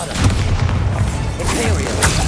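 Deep booming blasts from the Bombarda spell rumble in Hogwarts Legacy, heavy low thuds rolling under a voice speaking amid dense game noise.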